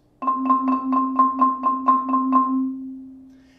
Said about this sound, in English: If one hand is playing faster than the other, your roll might sound like this.